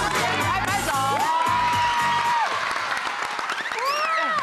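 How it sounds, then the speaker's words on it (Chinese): Children at a kids' TV show clap and cheer in a lively crowd, mixed with music and shouting voices, loud and close throughout. "拍拍手"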